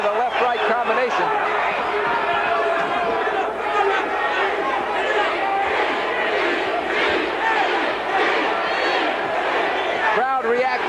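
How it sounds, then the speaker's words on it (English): A hometown boxing crowd at a 1983 bout roars and shouts in reaction to a pair of punches, a dense, loud, sustained swell of cheering voices that holds throughout and breaks up near the end. "Crowd reacting to 2 punches by McComb."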